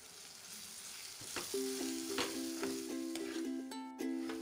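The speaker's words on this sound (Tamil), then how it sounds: "இப்போ இஞ்சி பூண்டு பேஸ்ட் போட்டு நல்லா ஃப்ரை பண்ணிக்கோங்க." Ginger garlic paste fries in an oiled pan, a soft continuous sizzle with a few stirring scrapes and clinks of a utensil against the pan, close and fairly quiet.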